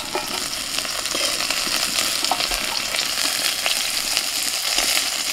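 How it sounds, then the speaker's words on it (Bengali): Okra fries in hot oil in a village kitchen, giving a dense, continuous, crackling sizzle. Faint stirring scrapes come through near at hand, and no one speaks. "ঢ্যাঁড়সটা একটু ভেজে নিয়ে তুলে নিচ্ছি"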